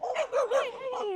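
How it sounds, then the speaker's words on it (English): A puppy lets out a quick run of high, yappy barks and whines up close, several short calls in under a second or two. "Oh, it's a puppy."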